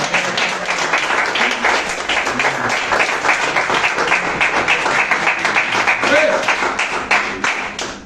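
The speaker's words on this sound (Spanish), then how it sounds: "Ponte palmas a Cristo." A church congregation claps together in praise of Christ, a dense, steady wash of applause that holds for several seconds and fills the room, with voices calling out faintly underneath.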